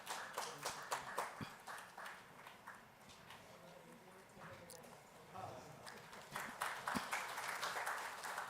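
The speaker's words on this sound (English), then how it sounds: "Let's have a big round of applause, ladies and gentlemen" Audience applause at a soil health conclave rises and falls across the stretch, with scattered claps in bursts at the start and end and a softer patch in the middle, under faint talk.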